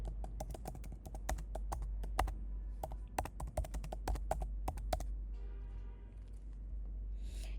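Typing on a computer keyboard while filling in a unit-type field in ERP software: a steady run of crisp, close key taps in uneven rhythm over a low background hum, thinning out toward the end.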